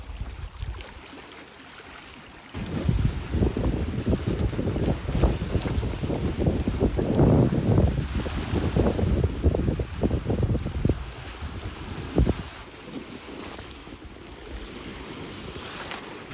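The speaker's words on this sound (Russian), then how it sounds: "Очень сильно усилился ветер ночью и прям завывает." Strong wind buffets a microphone outdoors on an island in Primorye, loud gusty rumbling surges that swell and ease over several seconds, with no voices present.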